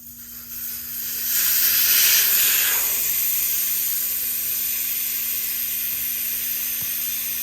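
Air hisses out of a golf cart tire as the valve stem is removed, a steady rushing hiss that swells loud for a couple of seconds and then settles into a continuous fainter hiss.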